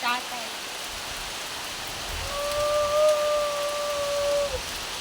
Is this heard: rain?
yes